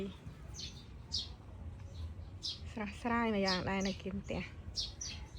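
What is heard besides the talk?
birds chirping naturally near a house garden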